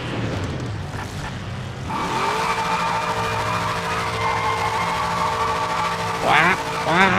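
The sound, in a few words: tyre squeal from warming tyres in a racing video game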